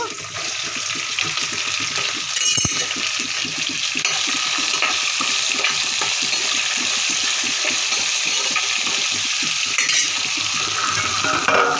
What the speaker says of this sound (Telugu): ఇప్పుడు బెండకాయలు వేసేసుకుందామండి